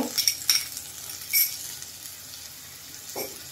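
Finely chopped tomato tipped into a pan of onions already fried to light pink, giving a bright sizzle with a few stirring scrapes and clinks, fairly close and brief, for a Malwani cashew curry.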